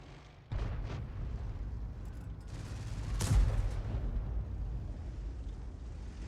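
Tank cannon fire in a World of Tanks tier 9 battle, with a muffled distant boom starting abruptly, a sustained low rumble and a heavier blast midway through.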